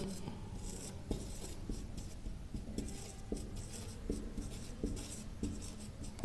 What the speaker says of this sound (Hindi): देख लो, हेडिंग लिख दें